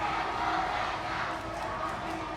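A stadium crowd cheering at an Indonesia v Iran football final, a broad, distant roar that stays constant throughout.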